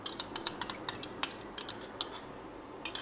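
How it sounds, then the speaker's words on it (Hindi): A utensil clinks rapidly against a bowl while lukewarm liquid is stirred into honeycomb bread batter, with a quick, uneven run of bright taps, a short pause, then another burst of clinking. "चलिए आए मिक्स करते हैं।"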